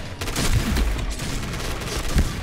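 Shotgun fire in the online shooter Point Blank crackles in a quick flurry of sharp blasts over a couple of seconds, with a final punchy shot near the end.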